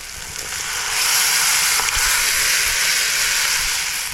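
Prawns already cooked are poured into a pan of hot, oily red-chilli masala for a Konkani prawn curry, setting off a loud, steady sizzle and fry hiss that swells and keeps going, with no talking.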